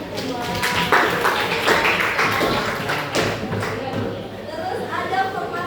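Second round of clapping from a group during a practical teaching exam, dense and steady throughout with voices chattering underneath.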